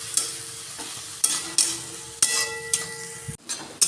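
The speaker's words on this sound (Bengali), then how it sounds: "চিনি দিয়ে দেবো। দিয়ে আমি ভালো করে নেড়ে নেব।" Sugar is stirred into vermicelli cooking in a pan, with a scraping spoon working in irregular strokes over a steady sizzle, close and moderately loud.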